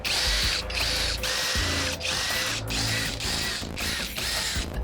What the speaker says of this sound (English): step bit for the countersink